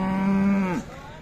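A large Jawari Gajari Khillar cow at a Sunday cattle market in Mudalgi, Belagavi, Karnataka, lets out one loud, close, drawn-out moo that falls in pitch and cuts off near the end, with no talk over it.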